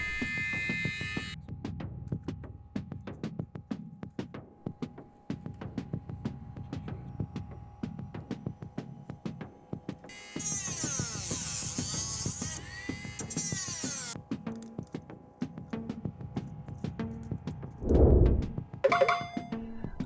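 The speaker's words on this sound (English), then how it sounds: "I could begin to remove the material using a Dremel" A Dremel rotary tool grinds away plastic on a toy ball shell, producing a high whining burst of several seconds mid-way, set against quieter scraping and handling noises and a low background hum.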